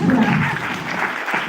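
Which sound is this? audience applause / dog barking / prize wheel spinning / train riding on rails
audience applause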